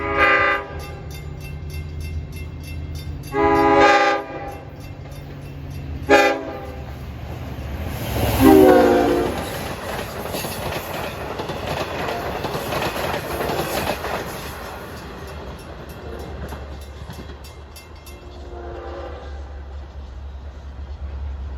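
A Long Island Rail Road train led by a DE30AC diesel locomotive passes on the Main Line near Bethpage and Hicksville, its horn sounding in several loud blasts over a steady engine roar and rolling wheel noise.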